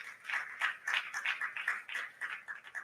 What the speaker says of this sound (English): Let's put our hands together again for the Niger Delta Development Commission